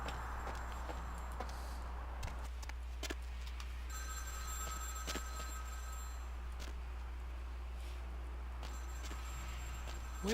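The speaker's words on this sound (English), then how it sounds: "Oh, I think I hear a phone ringing." In the video game Vampire the Masquerade: Bloodlines, a telephone rings in repeated bursts of bright, steady tone over a constant low electrical hum, with occasional clicks and faint footsteps, no talk.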